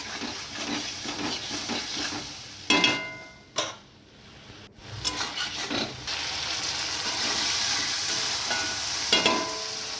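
Ground spices with turmeric and chilli powder, splashed with a little water, sautéing and stirred in a pan: a soft steady sizzle broken by a few sharp spoon scrapes and a brief quieter pause, no voices.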